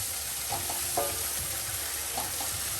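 About two medium onions frying in a pan, giving a steady close sizzle with a few soft stirring clatters and no talk.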